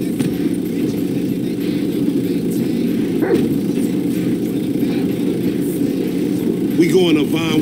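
A dog barks a few times in Grand Theft Auto V amid a running vehicle engine, with characters talking over the scene.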